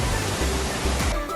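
The Sarang Walet waterfall gives off a steady, full rushing roar of falling water, continuous and close, with no voices over it.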